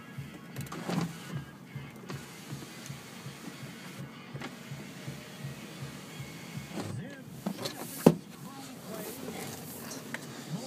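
Power sunroof on a 2004 Dodge Durango whirring in a low, steady motor hum inside the cabin, with a click near the end and a voice talking over it.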